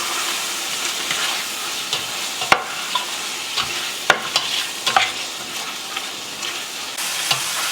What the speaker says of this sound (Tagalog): So, mix lang natin.